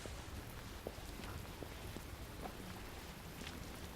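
Steady rain falls outside, a soft continuous hiss with scattered drop ticks and no voices over it.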